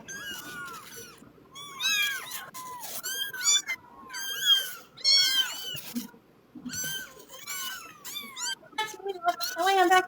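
A pet cat meows again and again in rising and falling cries, loud and close, with a person talking between and over the calls.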